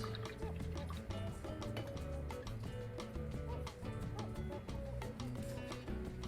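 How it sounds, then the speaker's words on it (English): A paintbrush swishes and rinses in a water cup while painting a sunflower, with continuous soft liquid sloshing and drips close by under a constant musical background. "We're going to rinse out."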